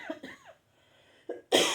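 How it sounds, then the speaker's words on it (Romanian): A preacher coughs during a sermon: a couple of quick, close coughs, a short pause, then two more harsh bursts. "Îmi cer iertare că mai tușesc"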